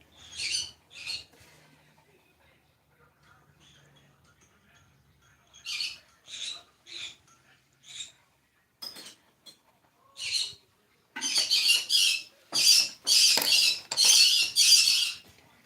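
Birds squawk in short, sharp bursts close by, scattered at first and then crowding together into a loud run of harsh calls near the end, with quiet stretches between the early cries.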